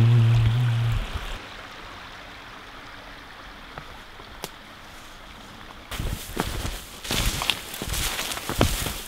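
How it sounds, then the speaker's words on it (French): A steady rush of flowing water from a small stream in a forest park fills the clip, with a louder stretch of splashing and rustling movement near the end. "on est à la petite rivière"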